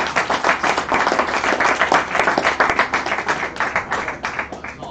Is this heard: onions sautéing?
no